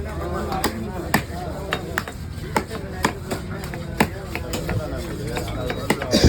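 Knife chopping through parrai fish at a busy Kasimedu fish-cutting stall, sharp cleaver thwacks landing in an uneven rhythm, about a dozen hits, over a constant backdrop of crowd chatter and market noise.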